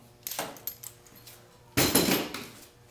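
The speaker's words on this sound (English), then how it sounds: "I will just remove the clamps" Metal clamps come off a car door skin in a workshop, giving a scatter of light metallic clinks and taps, then a louder rattling clatter as a clamp is set down nearby.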